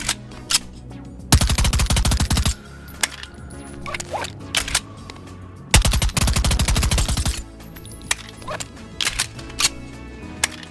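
Automatic gun firing in Bonelab, two long, loud sustained bursts of rapid shots, with scattered single clicks, clinks and handling noises around them.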